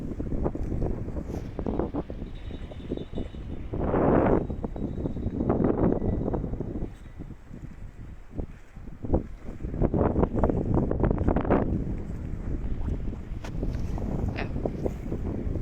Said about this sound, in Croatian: Piri iz mora i to malo onako hladniji vjetar.